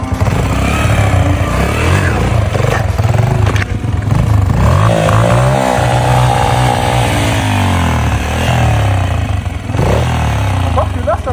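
A Beta RR 125 4T motorcycle engine revs hard and steadily at high throttle during a wheelie, loud and close, with the pitch rising and falling slightly as the throttle is held.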